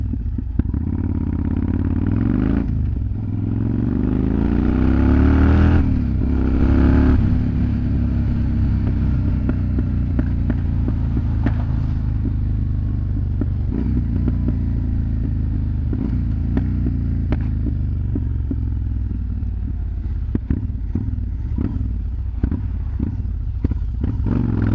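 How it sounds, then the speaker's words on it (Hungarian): A motorcycle rides along a road with a steady, loud engine rumble and constant wind roar, and there is a brief swell of revving near the start. "Nem is olyan vészes, mint gondoltam egy gumival motorozni."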